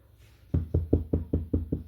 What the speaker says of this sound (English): Hopefully, knock on wood.